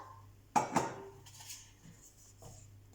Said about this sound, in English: I'm just going to cover this and let this cook for a few minutes